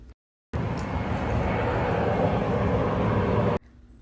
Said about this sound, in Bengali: বলছিলাম না 2 মিনিট পর পর প্লেন যায়, দেখতে পাচ্ছেন কতগুলো গেল এর ভিতরেই